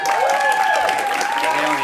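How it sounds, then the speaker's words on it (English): Audience at a student question-time debate claps and cheers in a dense, steady burst, with a whooping voice over the applause. "Leonie, round of applause."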